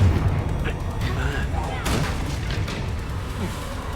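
Explosive Confringo fire spell in Hogwarts Legacy, a loud close burst at the start followed by booming, crackling combat impacts, with voices speaking over the fight.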